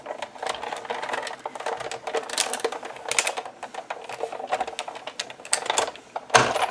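An embossing folder with card inside is cranked through a manual die-cutting embossing machine, giving a close, continuous run of rapid clicking and grinding ratchet noises with uneven bursts.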